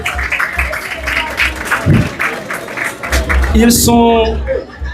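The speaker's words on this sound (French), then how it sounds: "On les applaudit, mesdames et messieurs" An audience applauds at a live stage event, a broad wash of clapping mixed with a voice talking loudly over it through most of the stretch.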